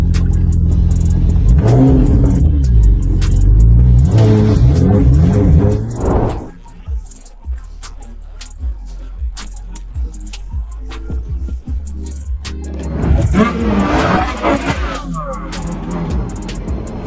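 A loud modified car engine roars hard close by, revving in heavy rumbling bursts for several seconds, then drops back to a lower idle before revving up again.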